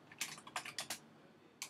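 Keys clatter on a computer keyboard while someone enters code for a beginner programming project, with a few quick clustered keystrokes followed by a lone final tap, soft and close in a quiet room.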